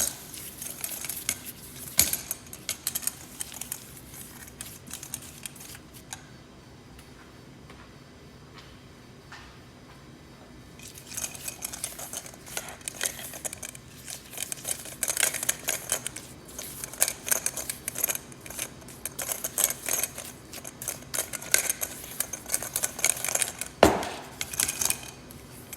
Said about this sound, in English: we're going to stir it by hand. So you want to kind of use your rubber scraper and you want to cream together everything